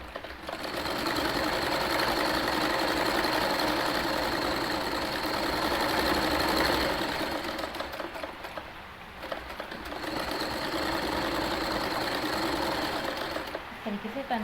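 A sewing machine stitches kurti fabric in a steady, loud, continuous whir that runs for most of the stretch, dipping briefly once partway before picking back up.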